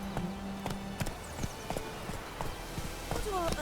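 The horse Roach's hooves clip-clop in The Witcher 3, irregular thuds at a walking pace heard near, mixed with game sounds and a voice speaking over them.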